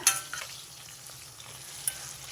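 Ivy gourd pieces frying in a pan give off a soft, continuous sizzle, with occasional light scrapes and clinks of a spoon stirring them, heard up close at a low level.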